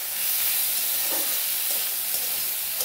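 Garlic with dried and green chillies tempering in hot oil, a dense continuous sizzling hiss holding steady and fairly loud at close range, with faint spatters and no voices.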